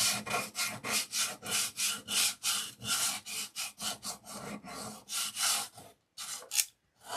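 A hand-held sander works a wooden farmhouse decor piece to distress it, giving a rhythmic series of close, raspy back-and-forth strokes that pause briefly near the end.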